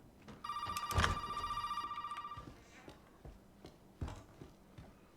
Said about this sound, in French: Fuck le téléphone, vous êtes pas obligé de répondre.